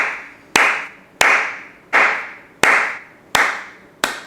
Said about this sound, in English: And I'm gonna clap.